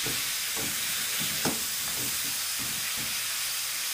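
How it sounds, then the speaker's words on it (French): Vegetables tossed with all-purpose spices sauté in a pan, giving a constant close hiss of frying broken by a few soft taps and shuffles. "Et je vais laisser rissoler."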